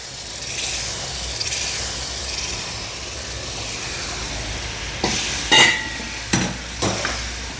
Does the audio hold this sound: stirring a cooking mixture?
yes